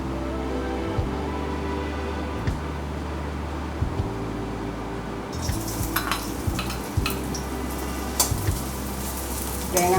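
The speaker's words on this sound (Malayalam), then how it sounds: "എണ്ണ ചൂടാകുമ്പോഴേ ആദ്യം നമുക്ക് ഈ തേങ്ങാക്കൊത്താണ് വറുക്കേണ്ടത്" Coconut pieces fry in hot oil in a pan, giving a steady close sizzle with occasional stirring scrapes and clinks throughout.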